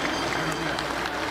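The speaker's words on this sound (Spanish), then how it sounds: "Aplauso para el Señor Jesús." A Pentecostal church congregation claps steadily in a dense, continuous wash of applause that fills the room, with voices mixed in underneath.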